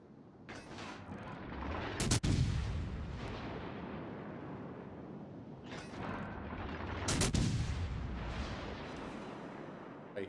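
Heavy naval guns boom in a warship battle game, two big salvos about five seconds apart, each a sharp loud blast followed by a long rumbling roll, over a constant low engine and sea drone.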